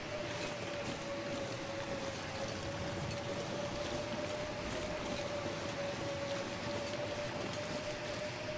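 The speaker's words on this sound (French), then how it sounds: "S'il n'y avait pas ce vent à la con." Howling wind in The Long Dark survival game, a steady, loud broadband rush that runs unbroken from start to finish with a faint sustained whistling tone riding through it.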